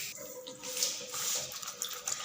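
A tap runs during household cleaning, a close, steady hiss of flowing water with small splashy fluctuations as it hits a surface, heard alone without voices.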